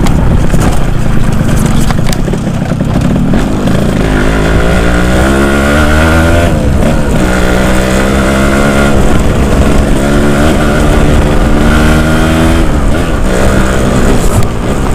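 A Yamaha YT115 trail motorcycle rides off-road with a loud, close engine that revs up and down in repeated rising and falling sweeps, continuous throughout with no speech.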